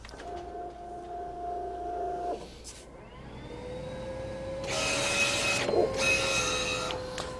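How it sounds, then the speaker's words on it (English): A large-format printer runs its cutter across a printed transfer sheet, making a whirring mechanical hum followed by two louder bursts of hissing, grinding cutter motion, with no talking. "I'm going to go ahead and hit the cut button."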